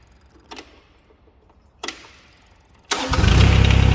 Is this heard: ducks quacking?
no